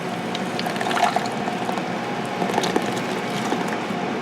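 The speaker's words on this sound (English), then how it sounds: "I'm going to strain the simple syrup and the lemon rinds through a strainer" Simple syrup and lemon rinds poured through a strainer, a continuous close liquid pouring and splashing with small drips and clinks.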